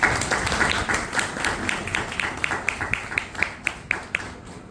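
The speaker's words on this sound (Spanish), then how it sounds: "un fuerte aplauso para la doctora." An audience at a folklore celebration claps for a doctor: a thin, scattered applause that settles into a few distinct, regular claps near the end.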